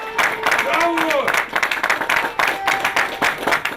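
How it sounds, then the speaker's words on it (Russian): An audience applauds the actors at the end of an outdoor Ingush ethnocultural theatre play in the mountains, with uneven bursts of clapping under a voice speaking over it. "Под конец пьесы традиционное прощание со зрителями, чествующими всех актеров заслуженными овациями."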